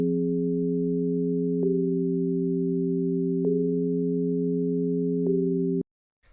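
A smooth, sustained techno synthesizer pad holds steadily on minor chords, shifting subtly between chords three times before stopping abruptly.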